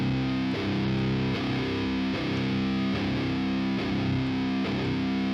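An electric guitar runs through a free amp-simulator plugin with heavy distortion, playing a steady repeated chugging riff with regular palm-muted accents, dense and saturated throughout with no talking.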